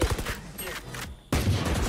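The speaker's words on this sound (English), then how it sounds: "How many sheriff shots did he shoot?" Sheriff pistol shots in the Valorant video game ring out in a quick burst of sharp cracks at the start, then again after a short lull, with faint talk underneath.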